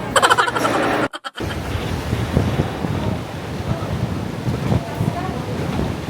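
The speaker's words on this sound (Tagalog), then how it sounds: "Sobrang windy." Strong wind and surf at a beach on Boracay roar in a loud, constant rumble of buffeting gusts and breaking waves, with a brief drop-out just after the first second.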